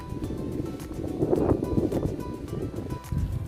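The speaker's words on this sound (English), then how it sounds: "it's extremely windy today" Strong gusty wind buffets the microphone at Kenilworth Castle, a rough continuous rumble with surging gusts.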